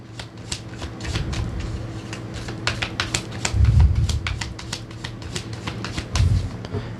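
Tarot cards shuffled over and over during a card reading, a continuous close patter of soft flicks and riffles over a low steady hum.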